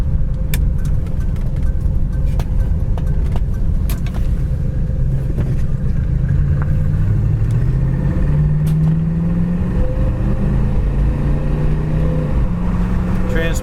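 A red 1971 Ford Torino cruises down a highway, its engine drone steady and close from inside the cabin, with road and wind noise rising and falling and a few small clicks over the constant rumble.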